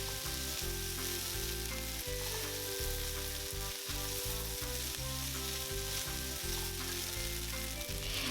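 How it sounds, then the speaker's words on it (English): Bean sprouts and vegetables sauté for Singapore noodles, a loud, continuous sizzle and crackle close up, with the odd stirring scrape and no talk. "just saute it until everything is softened and then nice and aromatic"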